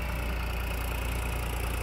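A New Holland 6010 tractor idles with a steady, low mechanical rumble and a fine regular pulse, close and continuous throughout, with no voices.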